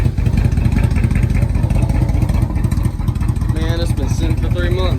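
A motorcycle engine cold-starting after sitting unused for three months, cranking and sputtering loudly and continuously in a rough, uneven rhythm close by, with people talking over it.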